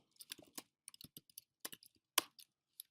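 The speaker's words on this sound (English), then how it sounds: "What's wrong with my typing today?" Keystrokes on a computer keyboard clatter in irregular bursts of sharp clicks, close and fairly quiet, with short pauses between flurries and one louder tap near the end.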